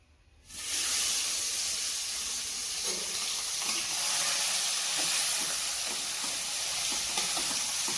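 Fish roe coated in turmeric and salt fries in hot oil in a wok, breaking into a loud, steady, close sizzle that starts after a brief quiet moment and hisses on without pause.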